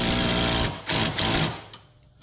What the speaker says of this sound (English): We will tighten up the rear spring bolt first.